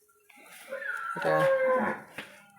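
A cow at a cattle market near the Bangladesh border lets out a single drawn-out moo, rising and holding for about a second, close by, over murmuring crowd noise.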